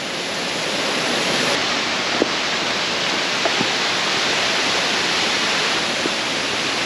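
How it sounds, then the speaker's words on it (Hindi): Waterfall along the gorge trail at Watkins Glen in New York's Finger Lakes, a constant roaring wash of falling water, steady and fairly loud, with a few faint ticks from nearby. "ले जी waterfall number 6 or 7 I think right there."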